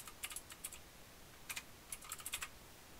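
Close, quiet computer keyboard typing comes in short clusters of light clicking keystrokes separated by brief pauses, with no talking.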